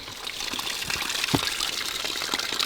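Tap water pours and splashes steadily nearby as fish are rinsed, with a brief clatter partway through.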